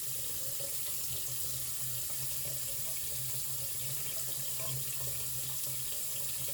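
A microfibre cloth is rinsed under a running tap at a sink. Water hisses and splashes steadily and fairly quietly throughout, with faint shifts as the cloth moves in the stream and no talking.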